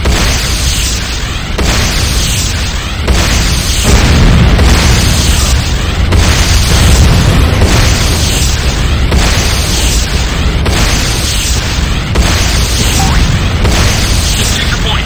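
Heavy booming explosions and rumbling destruction of buildings in the video game Renegade C&C, loud and sustained with repeated bursts, and a voice making announcements over them.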